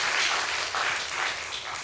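Church congregation applauding together at a 33rd anniversary service, a dense, steady wash of many hands clapping throughout, fairly loud and close, with no voices standing out.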